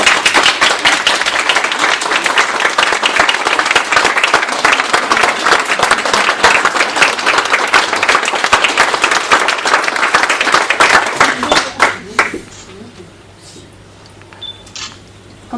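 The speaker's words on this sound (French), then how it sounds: "Je voudrais bien qu'on t'applaudisse pour ce que tu es." A studio audience on a French television show applauds a guest with a long, loud, dense burst of clapping that carries on for about twelve seconds, then falls away abruptly to near quiet.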